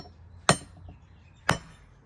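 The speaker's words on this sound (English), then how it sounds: "Gonna put a center punch." Two sharp metallic taps, about a second apart, ring out as a hammer strikes a center punch against metal stock for blacksmith tongs, with quiet in between.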